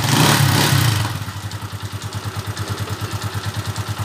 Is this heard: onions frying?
no